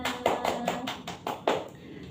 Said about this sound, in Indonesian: Beri tepuk tangan untuk Mbak Hardika dan pasangannya.